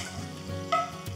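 Cashews frying in ghee, a soft steady sizzle close by with a brief clink of a spoon or pan partway through.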